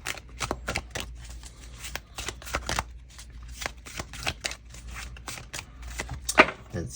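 Tarot cards are shuffled by hand in a quiet room, a rapid series of crisp riffling bursts and soft slaps repeating close to the microphone.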